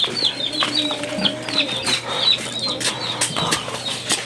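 Chickens cluck and squawk close by in short, irregular bursts, with some wing flapping and faint background noise.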